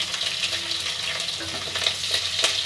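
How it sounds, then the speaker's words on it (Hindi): Red chilies frying in oil in a pan with fenugreek and garlic for an aloo baingan curry, a steady close broadband sizzle with faint stirring scrapes throughout. "अब इसे हल्का लाल होने तक भूनेंगे"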